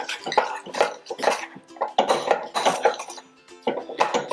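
Jowar flour being stirred into boiling water in a pot, with repeated scraping and knocking of a spoon against the pot in an irregular rhythm, close and fairly loud.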